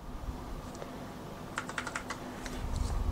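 Keys are pressed on a Monstargear Ninja 71 custom mechanical keyboard, giving a few quiet, sharp clicks in small irregular clusters over a low steady hum, close and faint.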